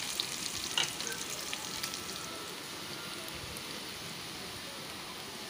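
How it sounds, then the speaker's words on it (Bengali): Onions fry in oil in a pan for a traditional Bengali kochushak dish, giving a soft, steady sizzle with occasional light stirring. No one speaks. "আরও এটা মিনিট 3-4 ভেজে নিচ্ছি"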